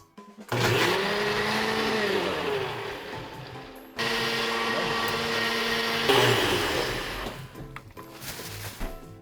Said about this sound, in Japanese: これからミキサーにかけます。